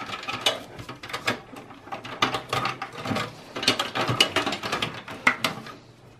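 Top cover of a Dell XPS 8900 desktop computer being slid off, a series of close plastic-and-metal clicks and ratcheting scrapes in an uneven rhythm, with no voices.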